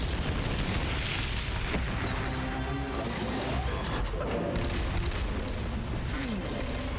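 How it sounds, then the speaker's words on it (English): Rocket launcher firing and blasts in Metal Gear Solid: Peace Walker, loud continuous rumbling explosions layered with booms and mechanical noise, fairly close and dense throughout. "Firing rocket launcher."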